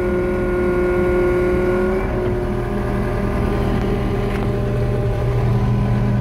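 Engine of a small tracked earthmoving machine running steadily in a small enclosed backyard space, a loud, constant drone with humming tones and a slight shift as the tracks move, no talk.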